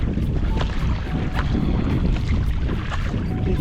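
Kayak paddling on the sea off Sithonia, Greece, in near-perfect weather: steady wash of water and wind buffeting the microphone, with faint rhythmic splashes of paddle strokes repeating through the whole stretch.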